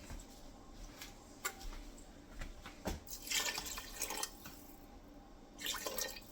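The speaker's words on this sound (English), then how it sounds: "And a little bit more water." Water being added to a pot of lentils cooking for Lebanese mjadra: soft trickling and dripping, faint and close, in a few uneven bursts rather than a steady pour.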